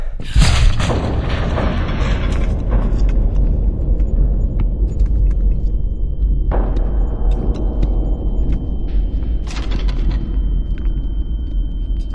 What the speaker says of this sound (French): Après 43 secondes de chute libre, elle atteint les 600 mètres d'altitude et explose.